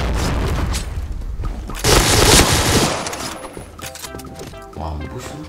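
Dense automatic gunfire and explosive bursts from Point Blank gameplay, loud and continuous, with a heavier roar of shots in the middle before shifting to sparser effects and tones.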